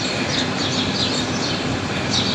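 Birds chirp and sing outdoors in repeated short, high tweets, fairly faint and partly buried under a steady, loud wash of broadband background noise.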